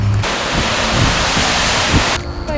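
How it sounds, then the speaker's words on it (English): Waterfalls in Springbrook National Park on the Gold Coast pour down in a dense, steady roar of rushing water, loud and unbroken throughout. "This is where multiple amazing Gold Coast waterfalls pound through down to earth."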